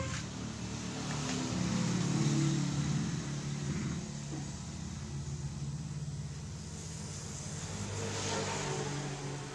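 Refrigerator condensing unit starting up and running during a recoil repair, a low steady hum and broadband rush that swells in the first few seconds and then holds at a moderate, even level.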